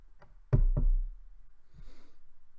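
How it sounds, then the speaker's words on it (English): Two sharp knocks on a door, close and loud, about a quarter second apart, followed by faint rustling and movement. "When there comes a knock at the door."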